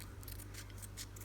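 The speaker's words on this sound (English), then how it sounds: "I find it's easier if you use a pair of nail scissors" Nail scissors snipping through paper while cutting out circles, several quick crisp cuts in a loose rhythm, close and faint in a quiet room.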